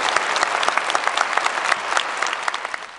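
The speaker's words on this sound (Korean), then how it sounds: "이 비전을 함께 나눈다는 의미에서 박수 한번 해주시겠습니까?" Audience at a university conference in Korea breaks into dense, sustained applause, many hands clapping close and loud for three seconds with a slight tail-off at the end.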